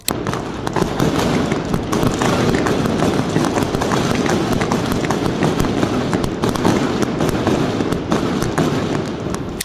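Dense, continuous crackling and popping bursts of Diwali fireworks fill the whole stretch, a barrage going off close by at a steady loud level.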